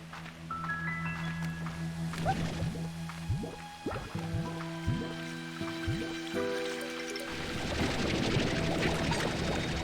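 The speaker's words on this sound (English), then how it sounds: "A chicken fell in the water." Water sloshes and drips in the Slime Rancher 2 video game as a chicken falls in, with a run of bubbly splash bursts in the middle and a rising churn of liquid toward the end over steady game music.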